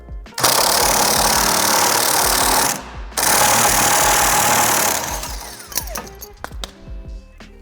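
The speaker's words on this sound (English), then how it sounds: "I am going to set my impact wrench to tighten." An impact wrench drives a threaded bolt into a crank puller, hammering loudly in two long sustained bursts with a short pause between, then stopping into scattered clinks and rattles of tools.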